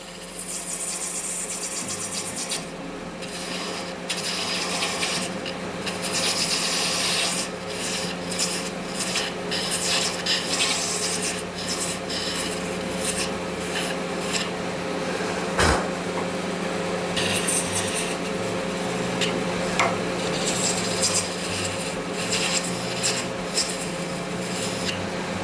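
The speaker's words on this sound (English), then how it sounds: "So we'll speed the lathe up again." A wood lathe running steadily while a rusticated shaving brush handle is shaped, with continuous rasping and scraping of tool on wood throughout, near and fairly loud.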